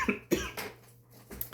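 A person coughs several times in quick succession, a burst of harsh, close coughs with a throat-clearing quality, with no talk in between.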